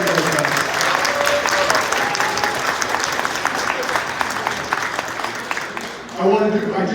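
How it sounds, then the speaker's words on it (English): Loud, sustained applause and cheering from a crowd at an anti-war rally teach-in, fading briefly near the end before a voice begins speaking. "Give yourselves a round of applause for being here"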